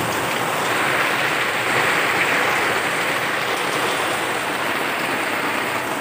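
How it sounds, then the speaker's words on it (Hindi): Heavy rain pours steadily, a dense, loud hiss with no breaks, rain hitting surfaces all around. "मैं आपको बारिश दिखा देती हूँ किस कदर बारिश हो रही है"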